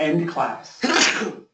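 A single sharp sneeze bursts out right after a lecturer's brief speech, loud and close in an indoor classroom.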